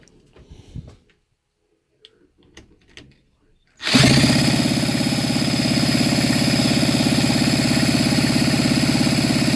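A Kawasaki KV75 (MT1) motorcycle engine during a CDI timing check: a few faint knocks, then it fires up abruptly and runs at a loud, steady idle with an even, rapid putter that continues to the end.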